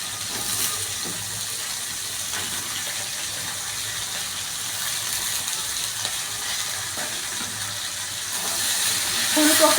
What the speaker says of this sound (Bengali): এখন আমি ফুলকপিগুলো ভেজে নেব।